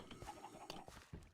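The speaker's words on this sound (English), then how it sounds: "Over here we have the chicken pen with way too many chickens in it." Pixelated Minecraft chickens crowded into an overfull pen cluck in short, soft bursts, several quick calls overlapping close by.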